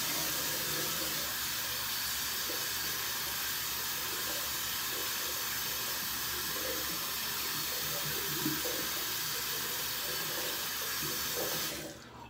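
A sink tap runs steadily while a shaving brush is rinsed under it, a loud continuous hiss of flowing water with faint splashing beneath, cutting off abruptly at the end as the tap is shut.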